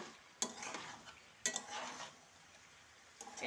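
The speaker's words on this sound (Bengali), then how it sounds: "এবার এগুলোকে সুন্দর করে নেড়ে চেড়ে ঢাকা দিয়ে দিতে হবে।" Chopped bottle gourd pieces stirred into beef curry in a pot, three distinct scraping strokes over a faint, low sizzle with quiet gaps between.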